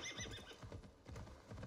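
A horse in Assassin's Creed Valhalla whinnies and neighs in the open while hooves clip-clop beneath, the call rising and falling over under two seconds at moderate, slightly distant loudness.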